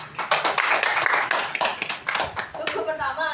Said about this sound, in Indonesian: Tepuk tangan dong buat Uci dong.